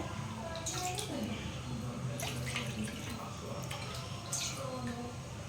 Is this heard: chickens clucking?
no